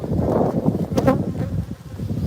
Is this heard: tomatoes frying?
no